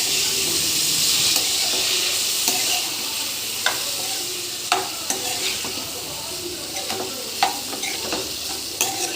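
Cauliflower pieces fry in hot oil for a cauliflower chicken fry, giving a steady close sizzle with occasional stirring scrapes and clicks of a utensil against the pan.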